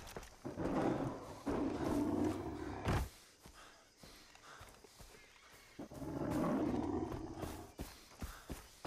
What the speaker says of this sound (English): I hear the tiger.